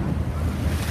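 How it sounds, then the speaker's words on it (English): Rough ocean waves seen from a boat wash and rumble for a moment, with heavy wind buffeting the microphone over the surf. "I would like to record those crazy waves over there."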